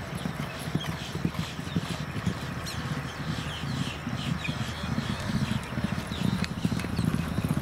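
A two-year-old Curlin racehorse breezing in a workout gallops in a steady, rapid rhythm of hoofbeats, thudding continuously over a faint outdoor background.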